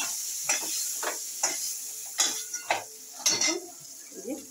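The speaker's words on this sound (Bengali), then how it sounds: "এবার আমি একটু ভেজে নিচ্ছি" Crab eggs fry in a pan under a steady sizzle while a utensil stirs and scrapes in repeated sharp strokes, close and fairly loud, with no talking.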